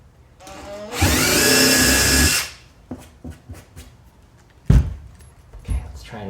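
A power drill with a 3/16-inch bit bores through the aluminum hull of a tin boat in one loud, steady whine of about a second and a half, followed by scattered metallic clicks and taps close by.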